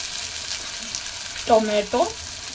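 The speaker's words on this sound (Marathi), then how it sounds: "जोपर्यंत तेल सुटत नाही मसाल्यामध्ये तोपर्यंत तळत राहायचं, फ्राय करायचं मसाल्याला" Masala frying in oil for egg curry in a pan, a soft continuous sizzle with two brief louder bubbling bursts near the end, close and alone without talking.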